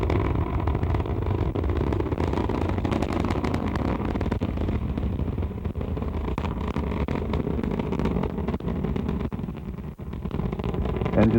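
Space Shuttle Atlantis engines during launch, a steady dense low roar with crackling texture, continuous and loud throughout with a brief dip near the end.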